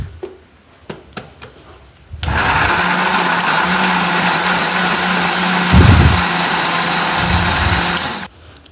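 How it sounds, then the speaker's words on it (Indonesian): A kitchen blender grinds cooked spice paste with oil, running loud and steady for about six seconds after a few sharp clicks, its motor bogging slightly midway before cutting off. "boleh pakai ulekan ataupun mau pakai blender, bisa minyak-minyaknya aku juga mau blender"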